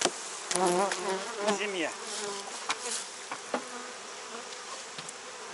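Honeybees drone around an opened hive in late summer as the colony prepares for winter, a close buzzing with rising and falling whines as individual bees pass near, while someone speaks briefly over it.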